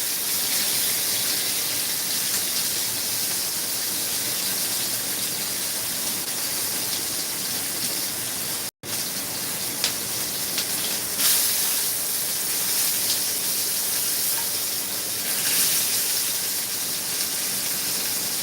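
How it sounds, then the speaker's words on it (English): Meat sears in a hot pan, a loud steady sizzling hiss running continuously with a brief cut partway through, no talk. "Sear the bottom, sear the side."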